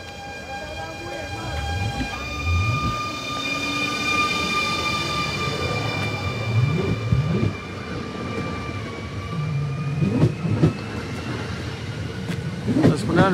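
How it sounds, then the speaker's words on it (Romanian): A new electric train pulls away from a platform, its motor whine rising in steady tones while low rumbling and clanking build as it gathers speed, heard from nearby. "Și imediat trenul se pune în mișcare."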